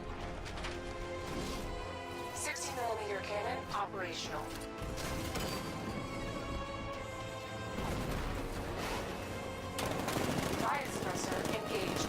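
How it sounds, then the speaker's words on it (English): Heavy 60mm tank cannon fire in the Batman Arkham Knight video game, a dense stream of rapid booming shots and crashing impacts over layered game sound effects, loud and continuous throughout. "60mm cannon operational."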